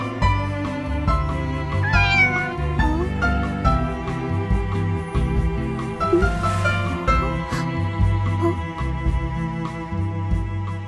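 A stray cat meows repeatedly in an animated trailer for a magic cafe story, its cries rising over loud, continuous background music.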